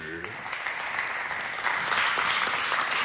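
Audience applause at a school talent competition between high schools, a steady broadband wash of clapping that swells slightly midway, with a voice briefly audible at the start.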